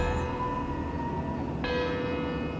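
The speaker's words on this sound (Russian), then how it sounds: "Так, колокол звонит." A church bell rings in the Hitman video game, a sustained metallic tone with lingering overtones over a steady ambient background, with a second strike sounding partway through, clear and fairly near.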